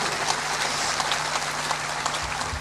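An audience at a spiritual discourse claps continuously, a dense, close burst of many hands sustained evenly with no pause and no talking.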